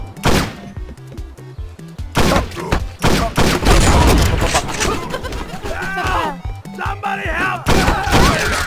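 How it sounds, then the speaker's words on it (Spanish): Rapid bursts of gunfire from the video game MicroVolts, dense volleys of shots and thumps that fill most of the stretch, loud and close, with excited voices speaking over the game. "Necesito dispararle al más propenso a morir."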